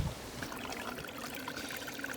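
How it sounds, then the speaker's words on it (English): A faint, continuous trickle of running water on a hiking trail at Wilsons Promontory, soft and steady, with small bubbling details and no voices. "just filtered some of this water trickling down here"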